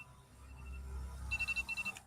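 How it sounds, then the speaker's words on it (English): Several iPhone alarms go off together at the end of a film screening, a short bright beeping pattern pulsing rapidly near the end over quiet low room rumble. "You hear the iPhone alarms"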